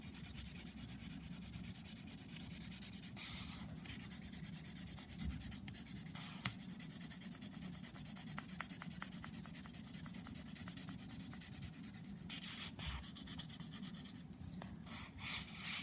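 A pencil shades across paper for a value scale, with a continuous close scratchy rubbing of graphite strokes that grows denser as more pressure is applied, and no voices.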